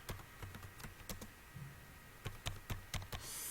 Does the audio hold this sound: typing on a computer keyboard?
yes